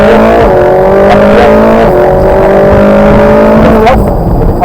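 Ferrari 458 accelerating at full power on a race track, its loud engine revving hard and climbing in pitch, then shifting up and pulling again close to the microphone.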